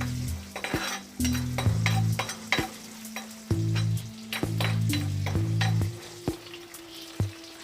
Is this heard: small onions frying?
yes